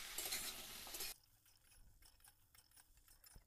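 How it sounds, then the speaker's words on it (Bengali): A spoon stirs 200 grams of boiled kabuli chickpeas into masala in a pan. It opens with a loud sizzling burst, then settles into soft, close scraping and shuffling strokes. "ভালো করে মশলার সাথে মিশিয়ে নেব।"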